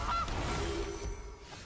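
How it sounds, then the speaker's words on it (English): A goose honks in the video game MTG Arena as the Gilded Goose card is played, with a short nasal honk at the start and a faint synthetic game tone trailing off behind it. "And it's gonna be a Gilded Goose."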